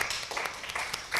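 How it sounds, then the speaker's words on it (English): An audience at a literary festival applauds, a short burst of dense clapping from many hands at moderate distance. "A round of applause, please."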